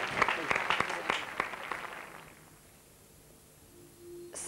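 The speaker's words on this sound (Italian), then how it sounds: "adesso applaudiamo" An audience applauds before a Shakespeare reading. A burst of close, crisp claps fades out over about two seconds, leaving quiet room tone and then a brief steady electronic tone.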